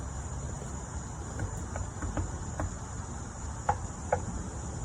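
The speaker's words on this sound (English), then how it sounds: "Ooh, hi, Cricket." A cricket chirps faintly in a quiet room of an old gardener's cottage, short sparse chirps spaced irregularly over a low background hiss.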